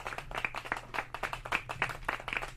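Rhythmic hand clapping, a steady run of sharp claps close by, quick and even, with no talk over it.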